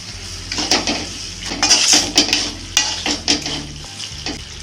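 Homemade kuzhambu masala powder fries on low gas in a pan for a tamarind curry with kidney beans and yam, with repeated close scraping stirs and metal clinks over a soft sizzle.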